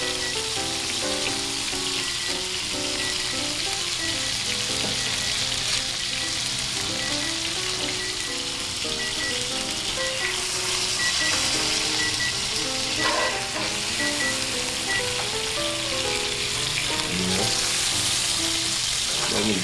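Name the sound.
teriyaki steak and shrimp sizzling on a griddle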